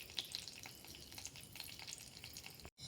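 Cooking oil poured into a hot pan, crackling and sizzling faintly with scattered pops and a soft steady hiss, heard alone before a brief cut at the end.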